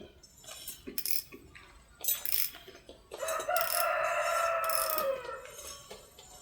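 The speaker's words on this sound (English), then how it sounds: "If the Dilty roosters would stop crowing," A rooster crows loudly and drawn-out nearby, preceded by scattered clicks and scraping noises, with fainter sounds continuing afterward.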